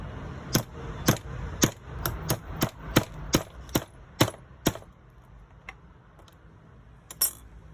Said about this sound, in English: then I'm going to hit it to set my rivet